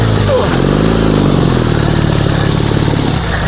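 A Dnepr sidecar motorcycle engine, with smoke coming from the clutch, runs loud and close with a chugging throb that rises and falls in pitch as it revs, then settles near the end.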